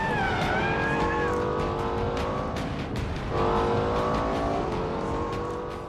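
A Lexus LFA Nürburgring package with a retuned 571-horsepower engine drives hard on a track, its high-pitched engine note rising and falling through gear changes, loud and continuous with tire noise and a pass-by surge midway.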